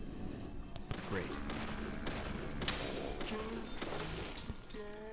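Gunfire in the video game Deadly Premonition crackles in a dense, continuous volley of shots and thuds under game sound, fairly faint overall, with a person commenting over it.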